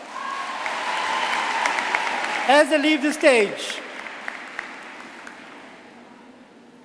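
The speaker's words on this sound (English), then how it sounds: "But I think you should give them another round of applause" A crowd at a graduation ceremony applauds, a continuous wash of clapping that holds steady and slowly fades, with a voice speaking briefly over it midway.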